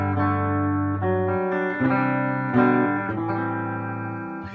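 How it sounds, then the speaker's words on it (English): A clean Telecaster-style electric guitar on the bridge pickup, no overdrive, plays sustained chords and single notes, bright and undistorted, each ringing out and fading before the next is struck. "So bridge pickup, no overdrive."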